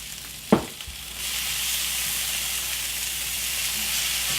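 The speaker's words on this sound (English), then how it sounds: "Nice sear on that ribeye" Ribeye steak and scallops searing in a hot pan, a steady broad sizzle that rises after a brief knock near the start and then holds evenly, loud and close, with no talking.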